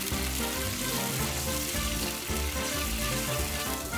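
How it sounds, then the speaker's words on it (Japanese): Sauce boils and sizzles hard in a hot pan for a liver and chive stir-fry, a dense, steady crackling hiss that carries on without a break for the whole stretch. "火を強めて一度タレを煮立たせる。"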